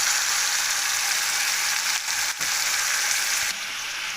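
Garlic cloves and a hot chili pepper fry in an oil-filled pan, giving a steady, loud, hissing sizzle that runs without a break, with two brief dips partway through.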